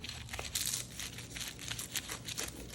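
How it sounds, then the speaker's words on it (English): A pizza cutter rolls through the flaky pastry layers of an apple pie sheetpan strudel, giving a soft, close crackle and crinkle of crisp layers that lasts a few seconds at a low level. "Gonna cut into this with a pizza cutter."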